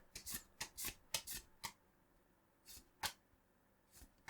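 Pokémon card packs are opened and the cards handled, giving quick bursts of papery rustling and riffling in two clusters separated by a short pause, close and fairly quiet.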